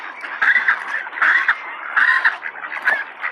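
A large flock of about 150 ducks crowds in to be fed at Reid Park, loud overlapping quacking and clucking in several bursts, close by, with no talk.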